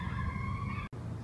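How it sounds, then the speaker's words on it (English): A siren wails steadily at moderate distance over low rumbling traffic, cut by a brief dropout near the end. "Sorry about the sirens."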